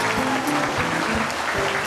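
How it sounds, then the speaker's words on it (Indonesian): Studio audience applause on the Indonesian talk show Hitam Putih, a steady wash of clapping with some musical tones and voices mixed underneath, sustained for the full two seconds. "Beri tepuk tangan untuk Jack Angel."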